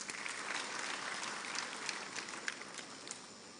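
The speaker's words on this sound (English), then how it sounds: "A round of applause again, please." Sustained applause from a crowd at a Kaduna State investment summit, steady clapping filling the room for several seconds with a few sharper claps standing out near the end.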